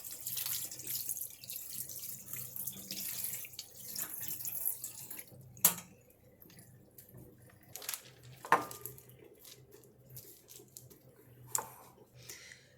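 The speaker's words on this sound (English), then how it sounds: "Butter needs to be washed under a cold tap." Cold tap water runs steadily over homemade butter in a sink, a soft, even hiss with a few sharp knocks and clatters of handling along the way, fairly quiet and close.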